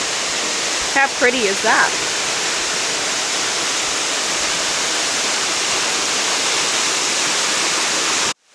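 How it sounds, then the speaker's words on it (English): A waterfall in Brisbane roars as a steady, dense broadband rush that fills the whole clip, with a person briefly speaking over it near the start before the sound cuts off at the end. "That fall's pretty cool."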